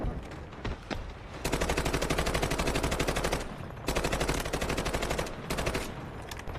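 Automatic gunfire in the video game Delta Force: long rapid bursts of loud, dense shots with brief pauses between them, preceded by a few single shots.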